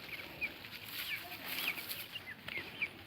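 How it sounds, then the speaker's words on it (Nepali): Chickens roaming outdoors give faint, scattered clucks and short calls over a soft, steady background hiss. "कुखुराहरू आफ्नै पारामा छ."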